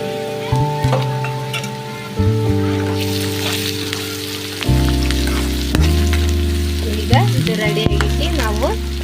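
Loud, continuous sizzling and crackling of tempering spices in hot oil for girmit, a puffed rice snack, with music playing underneath throughout.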